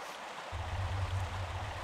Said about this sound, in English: That's an amazing waterfall